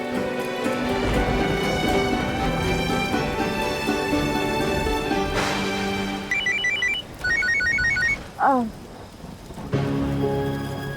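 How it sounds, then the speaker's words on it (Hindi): A telephone rings in short repeated bursts over heavy background music and rumbling noise, the rings clear but partly masked. "प्रथम का फोन आ रहा था, उसे फोन कर लो"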